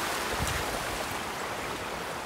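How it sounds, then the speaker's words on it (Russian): A mountain stream in the Malka gorge rushing steadily, a broad continuous roar of flowing water heard up close with no break. "А это вот такой своеобразный ручей"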